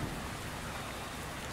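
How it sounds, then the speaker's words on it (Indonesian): Steady rain falling in the video game Zombie Forest 3, a continuous even hiss of drops with no distinct individual hits, moderately quiet throughout. "Hujan kah ini? Hujan cuy."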